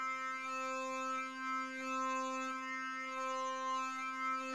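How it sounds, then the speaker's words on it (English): A sustained wavetable synth note in Kontakt 6 drones on a buzzy, harmonic-rich pitch while the wavetable position knob shifts its timbre subtly and gradually, quiet and steady with no voice. "if I press down on the key and then I move the position knob,"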